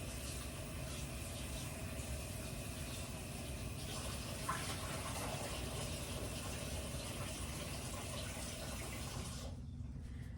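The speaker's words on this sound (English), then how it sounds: "I try to rinse them at least twice until the water's clear." Running water pours steadily from a tap into a sink, rinsing sliced potatoes for several seconds, a continuous rushing hiss that cuts off abruptly near the end.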